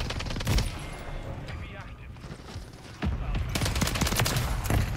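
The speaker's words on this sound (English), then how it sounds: "Wow, that's a sentry gun." Sentry gun in Call of Duty Modern Warfare 3 firing rapid automatic bursts, near and sharp, with a quieter lull in the middle before heavy, dense gunfire resumes amid battle noise.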